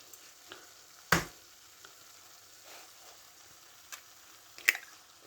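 Eggs with onions and potatoes frying in a pan over very low heat for an Afghani breakfast, giving a soft, steady sizzle broken by a few sharp clicks and taps, with no one speaking.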